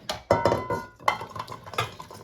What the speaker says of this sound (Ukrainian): беру ось таку глибоку велику миску, у неї висипаю капусту